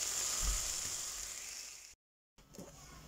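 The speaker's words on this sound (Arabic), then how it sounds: "دابا غادي نشحرها مزيان حتى تشرب" Kofta frying in a pan for a potato and kofta tortilla: a steady, soft sizzle and hiss that breaks off into silence midway, then resumes faintly with a little stirring.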